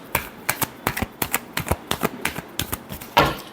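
Tarot cards are shuffled in a steady run of about fifteen crisp, close riffs and taps, ending in a louder, longer burst of the deck being swept together, with no talking.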